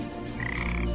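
A frog croaks once in a Power Rangers Super Samurai episode, a short, close, loud call with a rough, buzzing quality.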